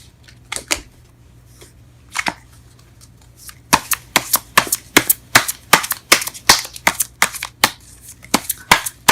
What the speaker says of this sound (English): let's go ahead and pull some cards in regards to your reading